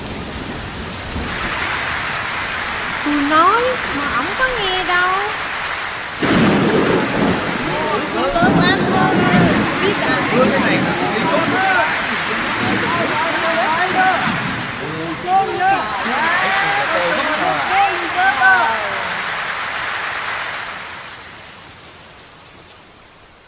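Rain and wind as a sound effect in a Vietnamese stage play, a loud, steady downpour hiss with rumbling swells throughout, under people talking on stage, fading at the end.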